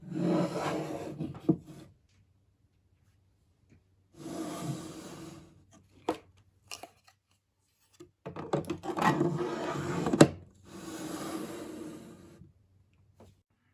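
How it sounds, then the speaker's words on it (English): A drawer is pushed into a small desk organiser, giving soft bursts of sliding and rubbing in several separate pushes with a few light clicks and taps between them, close and quiet, without speech. "Now I will insert the drawer."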